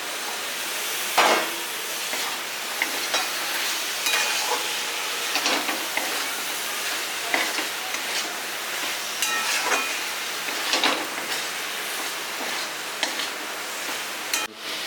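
Prawns sizzle in a pan of fried spice masala for a coconut malai curry, a steady close hiss and crackle with scattered sharp pops and stirring scrapes throughout, no talking.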